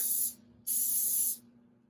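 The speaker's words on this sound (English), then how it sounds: "I'm going to spray it with some cooking spray." Cooking spray is misted over portobello mushrooms in two short, close, steady hissing bursts separated by a brief pause.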